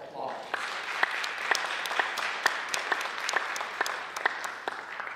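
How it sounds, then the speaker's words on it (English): An audience at a Hall of Fame ceremony applauds the honorees, a steady, moderately distant round of clapping with a few sharper individual claps standing out, fairly quiet overall. "Let's give our honorees a round of applause."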